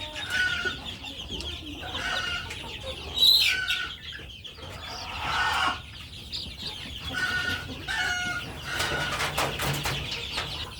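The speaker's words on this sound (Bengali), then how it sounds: "আর এখানে হচ্ছে আমাদের আগের মুরগির বাচ্চাগুলো" Fayoumi chickens on a small farm cluck and cheep in bursts, several birds calling close by against faint background noise.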